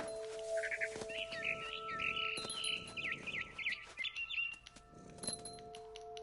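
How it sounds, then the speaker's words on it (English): Barn swallow chirping in the game What Remains of Edith Finch: a steady run of high, bright twittering calls near at hand, with soft wing-flapping bursts under a low ambient hum. "I heard chirping outside my window. It was a barn swallow going back to her nest."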